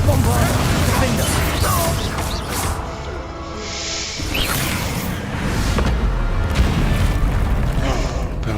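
Confringo and Bombarda spell blasts in the Hogwarts Legacy video game: dense, continuous booming explosions and crashing impacts with whooshing bursts, loud and cluttered throughout, heard alongside game music.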